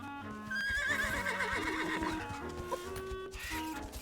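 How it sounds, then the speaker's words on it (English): Horse neighing in the video game Zelda: Echoes of Wisdom, a loud whinny with wavering pitch over game music and ambience, followed by quieter background sound. "Let's get the horse back here."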